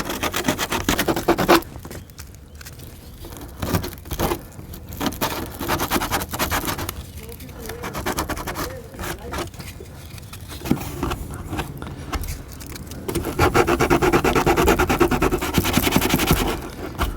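Sandpaper scrapes and scratches along cut edges during a recovery hook install on a 2019 Chevy Silverado LT, rubbing in uneven bursts, louder at the start and end, close up with no talking.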